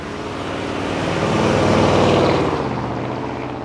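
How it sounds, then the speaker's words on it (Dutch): A deep, rumbling V8 engine swells louder as a big 1958 Chevrolet Biscayne passes close by, then fades, with a heavy throaty drone and no talking. "het enorme geluid van die V8, het lompen, het grote"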